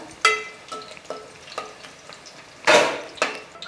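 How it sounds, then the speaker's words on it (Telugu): Green chilies fry and are stirred in a pan, with soft sizzling under a series of scraping stirs and two louder bursts of crackle, heard close with no talking. "కలుపుతూ చక్కగా వేయించుకోవాలండి మంచిగా ఎర్రగా వేగే వరకు పచ్చిమిర్చి కూడా"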